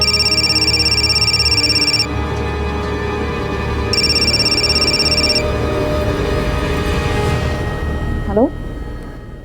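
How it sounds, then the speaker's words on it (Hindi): A phone rings in repeated electronic bursts with pauses between, over a busy background hum, fairly loud and close. "आपका फोन बहुत बज रहा है।"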